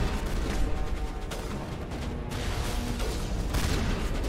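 Rapid bursts of sci-fi weapon fire and blasts in Mass Effect Legendary Edition, a steady, busy barrage at moderate level with no talking.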